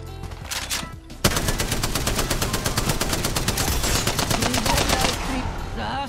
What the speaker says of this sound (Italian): Maggie, Octane, Bangalore, Mirage, Revenant possono tutti sparare mentre utilizzano la propria abilità tattica